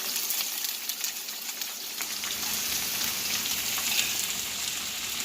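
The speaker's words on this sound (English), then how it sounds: "You hear that sizzle?" Onions, mushrooms and mixed peppers sizzle in hot oil in a pan, a steady, close crackling hiss with fine popping that carries on without a break.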